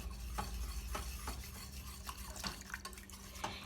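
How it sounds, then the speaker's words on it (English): A whisk works through an MCT butter mixture in a pot, making soft liquid swishing with regular light taps and clicks against the pot, close and quiet, without talk. "slowly stir it into the pot here while I'm whisking"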